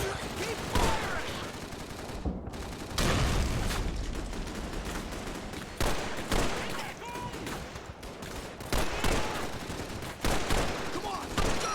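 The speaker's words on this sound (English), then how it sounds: "Keep firing!" Loud, dense gunfire from the Call of Duty 3 video game: machine-gun bursts and repeated shots roll on with hardly a break, joined by booms and shouted battle voices.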